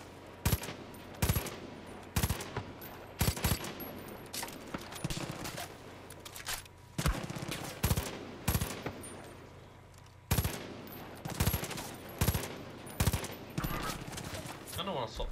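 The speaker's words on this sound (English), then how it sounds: "I can't hit you with the bloody machine gun." Machine gun fire in the video game Far Cry 5 comes as repeated short bursts of sharp gunshots separated by brief pauses, with a player's voice talking between volleys.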